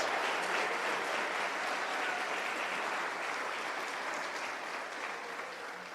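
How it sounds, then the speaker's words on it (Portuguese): Sustained applause from a large church congregation, dense and continuous clapping that fills the space and fades slightly toward the end. "Aplauda o Senhor, meu irmão"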